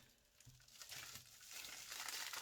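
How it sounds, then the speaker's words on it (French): Plastic packaging of a diamond painting kit being torn open, soft crinkling and rustling that grows louder toward the end, close but faint and heard alone. "Déchirer l'emballage."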